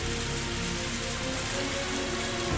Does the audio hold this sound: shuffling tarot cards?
no